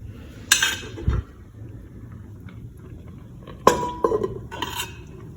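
A utensil stirs chicken pininyahang manok in a metal pot, giving scattered bright clinks and scraping clatters in two short bursts separated by quieter stretches.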